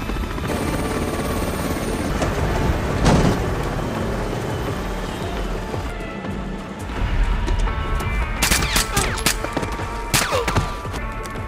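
A helicopter in the SEAL Team video game flies during a helo-to-helo interdiction, its steady rotor drone loud and continuous throughout, with a few heavier thumps and bursts of game action layered over it.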